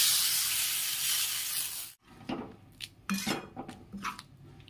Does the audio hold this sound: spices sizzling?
yes